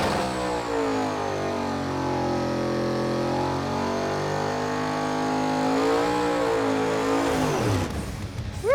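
Blasphemi drag car, rebuilt with coil-on-plug ignition, dry sump, a new clutch and transmission and fresh rear tires, roars loud and close as its engine climbs through rising and falling revs, then cuts off sharply near the end.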